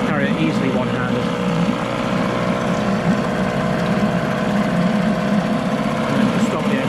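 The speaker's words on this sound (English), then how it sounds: "And then to stop the engine, just press in the red button" A Johnson 4 hp Seahorse two-stroke outboard engine runs steadily up close, a continuous buzzing drone with no change in pitch, while a voice talks over it at times.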